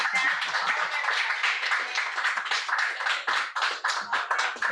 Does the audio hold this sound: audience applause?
yes